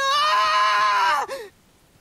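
A woman's loud, sustained scream from a game cutscene in AI: The Somnium Files holds steady and then breaks off into a short falling cry before silence.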